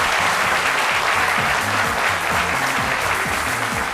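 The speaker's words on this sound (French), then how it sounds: "que je vous demande d'applaudir s'il vous plaît" A studio audience at a French television talk show breaks into sustained, steady applause, a thick wash of clapping with rhythmic hand beats running throughout at even loudness.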